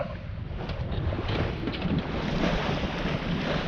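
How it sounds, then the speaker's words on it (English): Sailboat under way at sea on a night passage from Grimsby to Lowestoft, steady wind rushing across the microphone with the wash of water along the hull, a continuous loud roar with no talk. "But we're sailing well."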